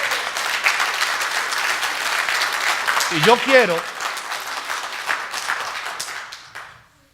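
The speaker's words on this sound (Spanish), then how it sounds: "Aplauda, sí, no hay problema." A church congregation applauds at length, a thick steady clapping that fades out near the end, while a preacher's voice speaks over it.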